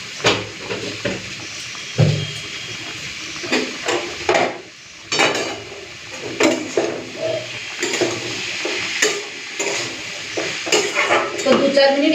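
Hilsa fish curry and ash gourd (chal kumro) sizzle in a pan while a spoon stirs and scrapes against the metal, bringing irregular clanks and bursts of frying over a steady hiss.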